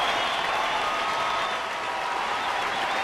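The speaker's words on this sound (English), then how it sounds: "he'll get a nice round of applause" A baseball stadium crowd applauds with steady, dense, even clapping and a faint background roar, loud and sustained throughout.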